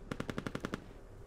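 Automatic cannon on a BTR armoured vehicle in the Squad game firing a rapid burst of about eight evenly spaced loud shots, then falling silent as it waits to reload.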